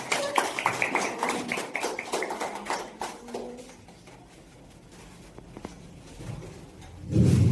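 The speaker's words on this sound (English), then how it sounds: "everybody, clap for Purushottam." An audience claps for a contestant at a boys-versus-girls competition, a dense burst of hand claps that thins out and fades over several seconds, followed by a low rumbling thump near the end.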